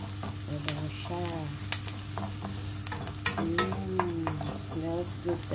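Onion and garlic sautéing in a pan for ginisang ampalaya with egg and hotdog, a steady close sizzle broken by spatula scrapes and stirring clatter, with faint tonal squeaks over the frying.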